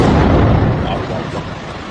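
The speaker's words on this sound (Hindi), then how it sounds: "ये मंजर है जब तेल अवीव पर आकर एक मिसाइल गिरती है।" A missile strike explodes in Tel Aviv as one loud, deep, roaring blast that fills the clip and slowly fades.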